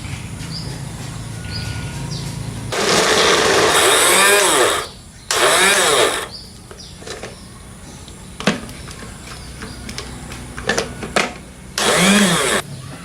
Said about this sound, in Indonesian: Coba kan kita blender satu persatu.